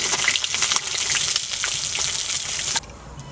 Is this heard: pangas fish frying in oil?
yes